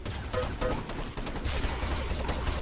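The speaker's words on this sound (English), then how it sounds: "Nephilim is using his blaster" Rapid bursts of blaster fire crackle through a video game match, dense overlapping shots in a continuous volley at moderate distance with no voices.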